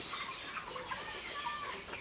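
A flock of about 700 chickens on a house rooftop clucks and chatters continuously, many birds calling over one another at moderate distance.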